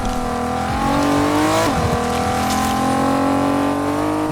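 Car engine in a video game, a loud continuous motor hum whose layered tones dip sharply once and then climb again as the car speeds up.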